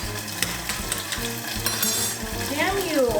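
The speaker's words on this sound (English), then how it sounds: "Why is this sizzling already?" Food sizzles steadily in a hot pan while ramen cooks, with light stirring and utensil clinks over a continuous frying hiss, and a brief whistling tone near the end.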